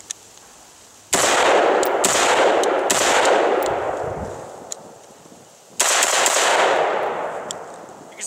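Two loud, sharp gunshot bursts from a Bravo Company Manufacturing lightweight AR upper rifle fitted with a compensator, fired on an outdoor range, each crack followed by a long fading echo, with a short gap between them.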